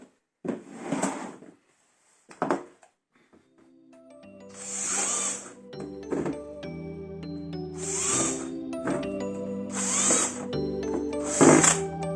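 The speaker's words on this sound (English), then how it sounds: "I'm going to drill all of these so the worms can have some oxygen" A power drill whirs in repeated bursts, drilling holes into a plastic worm bin several times, with clattering and handling noises between the runs.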